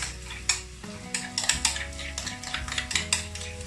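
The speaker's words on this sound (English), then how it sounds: "Add it all in. Give it a good old stir." A spoon stirs a chickpea and egg mixture in a bowl, giving repeated scraping clinks against the sides in an uneven rhythm, close and moderately loud with no talking.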